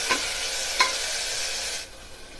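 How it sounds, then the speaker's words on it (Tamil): Onion and tomato sauté in a hot pan with a loud, bright sizzle, broken by two quick clinks of a spoon stirring before the frying noise drops off near the end. "இப்போ வெங்காயம் தக்காளி நல்லா வதங்கி வரட்டும்."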